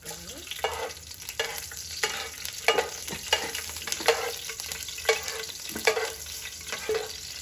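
Cloves and green chilies sizzle in hot oil in a frying pan as Andhra-style spicy duck fry is prepared, a steady crackling hiss broken by repeated sharp bursts and stirring scrapes, close and with no talking.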